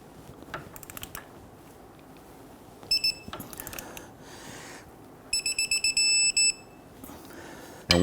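A torque wrench tightening the lug nuts on a 2011-2015 Kia Sorento to 159 foot-pounds gives off repeated short electronic beeps in two bursts, the second a quick series ending in a longer tone, close and clear.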